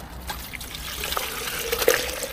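Water is poured out onto the ground of a frozen yard in cold weather, giving a brief, close trickling splash that swells toward the end.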